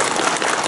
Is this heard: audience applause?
yes